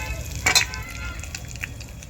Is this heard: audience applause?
no